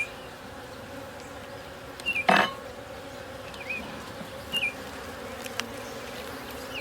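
Honey bees drone steadily at an open hive, a continuous close buzz with a few brief clinks of the hive tool against frames.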